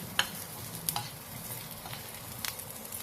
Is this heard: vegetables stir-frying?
yes